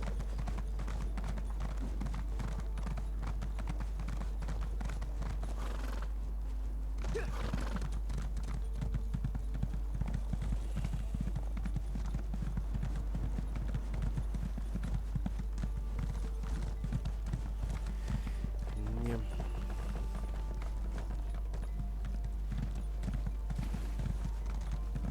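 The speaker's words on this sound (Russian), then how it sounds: "Ну чё, значит, на лошадочку." A horse gallops in the Elder Scrolls Online video game, its rapid rhythmic hoofbeats clip-clopping steadily throughout over a constant low hum and game ambience, with a brief whinny, no speech.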